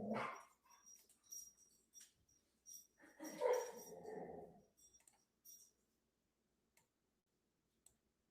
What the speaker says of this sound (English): Sorry, guys, if you can hear my dogs in the background.